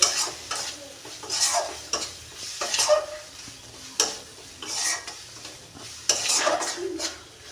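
Spices and fish with prawns or dried fish are stirred in a hot pan, and a spatula scrapes in repeated strokes over a continuous oily sizzle, close and moderately loud.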